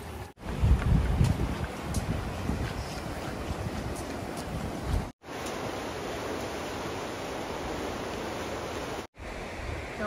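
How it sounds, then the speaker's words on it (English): Flowing river water in The Narrows at Zion National Park gives a constant broadband rush, steady and fairly close, interrupted by two brief cuts, with no voices. "A little bit of flowing water."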